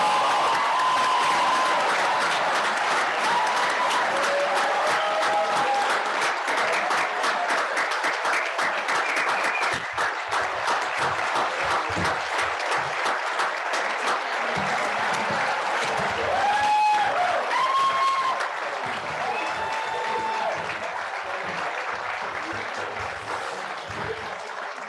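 A crowd applauds at a high school commencement ceremony for the class of 2021, a dense, steady wash of clapping lasting throughout. It fades slightly at the end, with brief cheers and a few voices mixed in.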